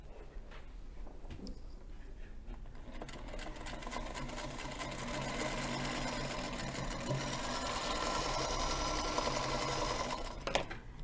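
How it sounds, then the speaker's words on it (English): A Featherweight sewing machine runs steadily while stitching fabric pieces together, its whirring motor and rapid needle clatter close and continuous, slightly louder in the second half. "we're going to sew the 2 together, and then we'll sew it to the focus fabric"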